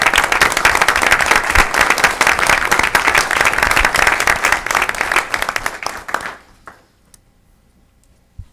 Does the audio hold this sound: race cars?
no